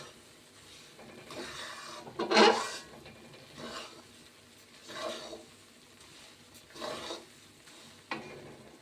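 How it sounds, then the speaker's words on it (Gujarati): Urad flour roasting in ghee is stirred in a pan, giving soft scraping strokes in an irregular rhythm with a faint sizzle underneath, one sharper scrape standing out. "આપણે લોટ નાખીએ એટલે પછી જેમ શેકાતો જાય ને એમ જેમ ઘી છૂટું પડતું જાય"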